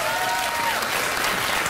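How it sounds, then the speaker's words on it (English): A comedy club audience breaks into loud, dense applause, a steady wash of clapping that fills the whole moment. "Why did they applaud?"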